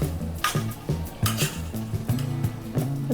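Cashew masala curry stirred in a pan, a spoon scraping and knocking against the metal in quick repeated strokes, close and fairly loud, with no talk.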